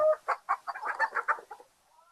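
A chicken in the Fiete farm video game clucking in a quick run of about eight short, close, bright clucks over a second and a half, then falling quiet, with no talk.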